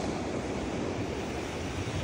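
Sea waves at Cabongaoan seaside roll in as a steady, dense wash of surf with some wind, continuous and fairly close, with no voices.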